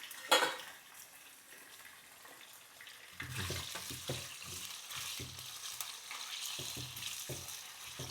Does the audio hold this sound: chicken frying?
yes